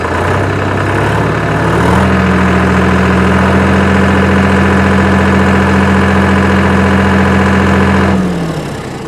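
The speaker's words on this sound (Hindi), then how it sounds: "आप इंजन का आवाज़ सुनिए यहाँ पे कि इंजन आपको कैसा सुनाई दे रहा है।" A loud Sonalika DI-35 39 HP diesel tractor engine runs steadily, revving up after a couple of seconds, holding a constant heavy drone, then winding down at the end.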